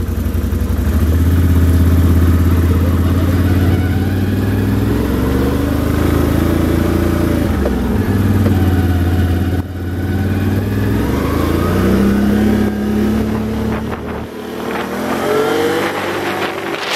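A 2016 Can-Am Outlander L 570 Hunting Edition ATV pulls away, its engine rising steadily through the revs and shifting pitch, loud and close for the whole stretch with no talk.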